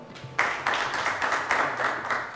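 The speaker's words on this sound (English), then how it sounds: "Big round of applause to them." Students in the audience at a secondary schools quiz competition give a round of applause, a burst of clapping starting abruptly and pulsing in uneven waves, fairly close and steady to the end.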